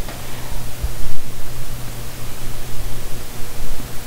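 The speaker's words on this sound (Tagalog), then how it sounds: "Maririnig niyo po na may ceiling fan sa taas ng ulo ko, kaya medyo maingay in the background." A ceiling fan overhead makes a steady, broad whooshing hum that fills the space, picked up by a Boya MM-1 mini shotgun microphone with noise suppression off, with a low rumbling drone underneath, constant and fairly loud with no voices.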